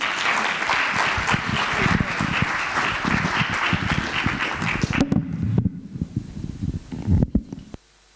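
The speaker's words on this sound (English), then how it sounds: "Another big round of applause for such a compelling presentation." A large forum audience applauds after a compelling presentation, a dense, sustained wash of clapping for about five seconds that thins into scattered claps and fades out.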